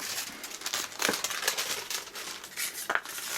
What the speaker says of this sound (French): et je vais mettre le papier cuisson